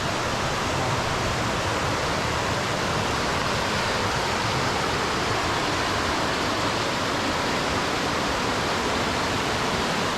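Steady, roaring rush of the Yongchu Valley stream in Gapyeong, South Korea, pouring over rocks, loud and continuous with no voices.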